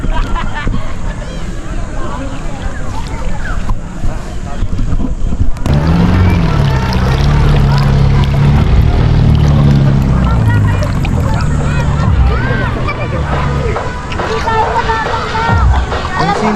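A motor outrigger boat (bangka) engine starts up partway through and drones steadily under wind and a hubbub of nearby voices at a beach outing in Lian, Batangas.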